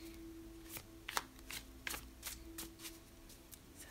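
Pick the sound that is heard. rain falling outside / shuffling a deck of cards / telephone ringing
shuffling a deck of cards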